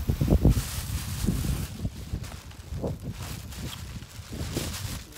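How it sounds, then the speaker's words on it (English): Gusty wind buffets the microphone outdoors beside Pinewoods Lake, coming in uneven low rumbling bursts with rustling over a few seconds, close and fairly loud, with no talk. "oh my gosh, the wind is really blowing here."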